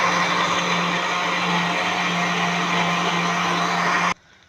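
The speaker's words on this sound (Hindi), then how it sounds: "अब हम इसको अच्छे से ग्राइंड करेंगे।" An electric kitchen grinder whirs steadily while grinding fried onion paste, a loud continuous motor drone with a strong hum that runs unbroken for about four seconds and then cuts off abruptly.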